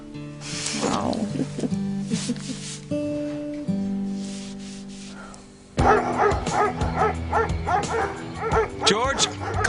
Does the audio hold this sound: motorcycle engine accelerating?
no